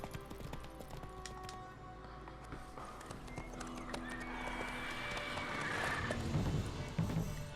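Geralt's horse Roach from the video game Witcher 3 gallops with rhythmic hoof clip-clops and neighs, set against a busy game soundscape that grows louder toward the end.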